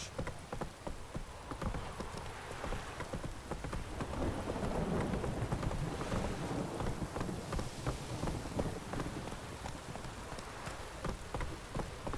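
Heavy rain pouring down in The Witcher 3 video game, a dense steady patter of drops with low rumbling thunder swelling midway and faint clip-clop of horse hooves mixed in, no talking.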